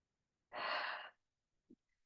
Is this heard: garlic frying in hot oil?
no